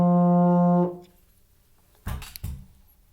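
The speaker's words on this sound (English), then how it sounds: "when you attach the mouthpiece to the baritone, it sounds like this" A baritone horn played with its mouthpiece attached sounds one loud, sustained brassy low note for almost a second, then fades, followed by a few faint bumps and clatters.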